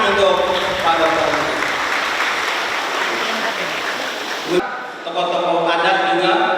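An indoor audience at a formal Dayak and Malay cultural dialogue claps loudly and continuously for several seconds, ending in a brief break with a voice.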